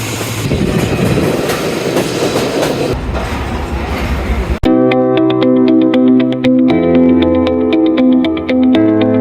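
The Karachi Express, hauled by locomotive ZCU 30, passes close by with a loud rumbling clatter, then a sustained, blaring horn cuts in sharply and sounds through the rest of the pass.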